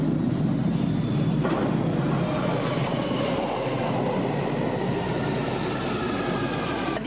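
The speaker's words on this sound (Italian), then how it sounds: "Bene, ciao, la metro di Londra." A London Underground metro train rolls along at steady loud volume, a dense rumble with clickety-clack and faint wheel squeal under it and no voices.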